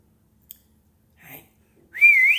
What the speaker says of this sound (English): I call her name and whistle.